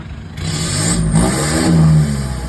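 A 1.9-litre 2018/19 car engine revs up loudly and close by, rising and falling in pitch over a couple of seconds, with no talking.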